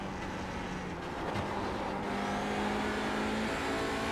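Hyundai Veloster TCR race car on full throttle at Oulton Park, a steady loud engine drone holding for about four seconds with a faint rising pitch, heard from inside the car.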